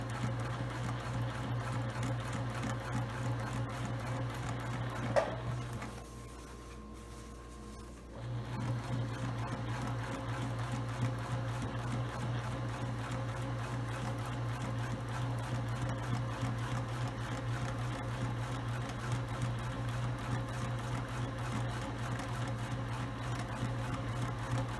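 A sewing machine back stitches a travel shoe bag with a steady, close mechanical whir. It pauses briefly near the start, then hums on continuously to the end.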